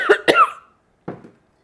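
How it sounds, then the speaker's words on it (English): Two sharp, close coughs from one adult with a lingering illness, followed by a softer third cough after a brief pause, alone with no talk. "As you can tell, still the cough."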